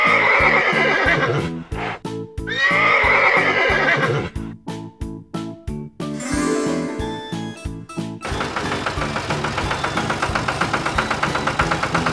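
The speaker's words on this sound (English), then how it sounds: "Horse." A horse neighs loudly twice over steady rhythmic music, followed by a shorter whinny and then continuing music.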